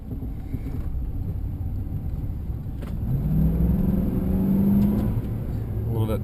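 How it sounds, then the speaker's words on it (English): A pickup truck with a 6-liter V8 engine drones steadily on a test drive, a low rumble that swells as it revs in the middle, with faint talk inside the cab. "It does have the 6-liter V8 engine in it, so it offers a little bit more power than the 350"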